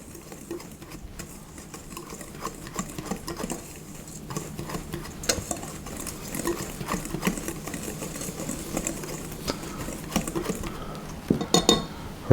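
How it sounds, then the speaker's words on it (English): A whisk stirs dry muffin ingredients, including baking soda, in a bowl for roasted oatmeal muffins: a steady scraping, tapping rhythm of wire against the bowl that grows busier and louder toward the end. "I'm just going to use a whisk to mix all of those together"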